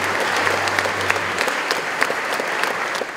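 Loud, dense applause from a crowd at a Franciscan youth gathering, steady clapping with scattered sharper claps throughout, and a low hum underneath in the first half.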